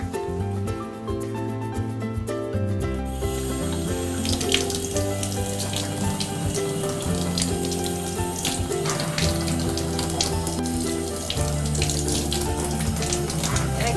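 A tap runs loudly into a bath or sink as water rinses off homemade bath paints, a close steady gush with splashing layered over a tonal hum.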